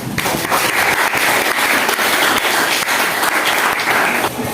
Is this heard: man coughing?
no